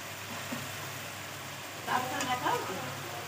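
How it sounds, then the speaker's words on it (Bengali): Garlic sizzling in a frying pan while a katla fish rezala is cooked, a soft continuous crackle that swells with stirring toward the end as a voice speaks quietly. "রসুন দিয়ে দিলাম।"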